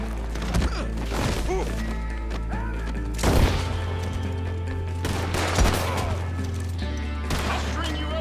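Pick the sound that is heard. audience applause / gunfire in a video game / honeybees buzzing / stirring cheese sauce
gunfire in a video game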